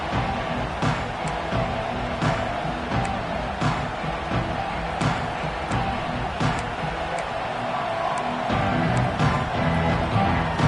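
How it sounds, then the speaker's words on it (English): A stadium crowd in the College Football 26 video game rumbles as a dense, steady roar with scattered cheers and claps, while a commentator talks over it. "This crowd ready to make its presence known."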